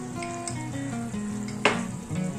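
Cornflour slurry being stirred into frying potatoes, a soft continuous sizzle with a brief scrape of a utensil against the pan, close and moderately loud.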